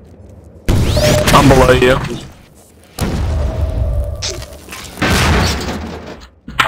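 RPG rocket explosions in the shooter game Half-Life 2 Deathmatch, three loud booming blasts a couple of seconds apart, each with a rough rumbling tail, while a player speaks briefly between them.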